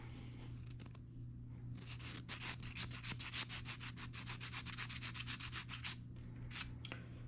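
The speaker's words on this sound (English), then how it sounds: "Next step here is filing these down with some bead files." Small bead files work over the inside of Begleri beads to smooth them. Quick rhythmic rasping strokes repeat close by, and the strokes are denser in the middle stretch. No one speaks.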